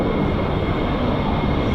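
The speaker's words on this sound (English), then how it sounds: "So the aircraft is in idle," F-15 or F-35 fighter jet engine idling, giving a loud, dense, continuous roar with a broad hiss, steady throughout with no talk.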